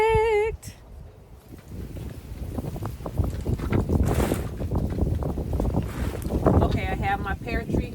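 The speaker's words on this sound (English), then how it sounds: "Okay, I have my pear tree here and the wind is blowing." Outdoor wind gusts against the microphone beside a pear tree during a fire advisory, a loud continuous rumbling roar that swells and eases throughout.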